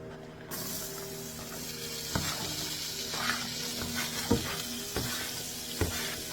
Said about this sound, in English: I'm going to put the onions in.